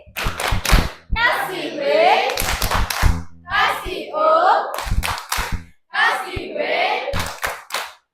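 A school class claps out an appreciation pattern in short, crisp bursts of synchronized hand claps, alternating with children chanting in unison between the clap groups.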